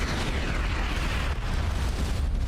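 A missile exploding in the space combat video game Starcom: Unknown Space, a loud, dense, rumbling blast that stays sustained and close for the whole moment.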